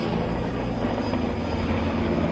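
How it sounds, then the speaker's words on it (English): Helicopters circling over a protest camp give a continuous, fairly loud rotor hum and engine roar that holds steady from start to finish, with no talking. "Helicopters are flying overhead."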